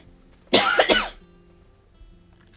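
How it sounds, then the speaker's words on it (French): A single short burst of coughing, two quick rough coughs close to the microphone, breaks an otherwise quiet indoor room. "Évitez de vous tousser dans les oreilles."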